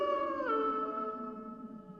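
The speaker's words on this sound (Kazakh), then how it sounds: "Тез бас аяғында қасқырлар жақындап қалған сияқты." Cartoon wolves howl as they close in: one drawn-out, mournful howl bends downward in pitch, fairly faint and alone, over a couple of seconds.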